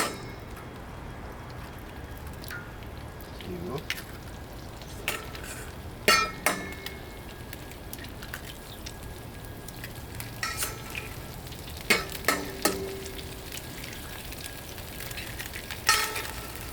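Eggs fry in plenty of oil on a Blackstone griddle with a constant close sizzle and crackle. Sharp metallic clicks and taps of a utensil on the griddle break through now and then.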